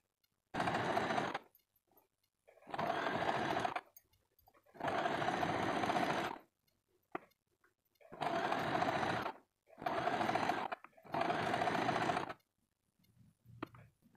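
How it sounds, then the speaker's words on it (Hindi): A sewing machine stitches a double katori blouse in six separate bursts of about one to two seconds each, with short quiet pauses between them, loud and close. "अब हम यहाँ से भी एक सिलाई लगा देते हैं।"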